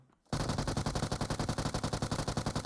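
A sustained burst of rapid automatic gunfire in PUBG Mobile starts abruptly after a brief quiet moment, with loud, evenly spaced shots continuing close by.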